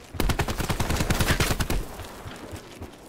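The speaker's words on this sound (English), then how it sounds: "Why are you shooting at me?" Rapid automatic gunfire in Call of Duty: Black Ops 4 rattles in a loud, close burst of evenly spaced shots for about two seconds, then trails off into scattered quieter shots.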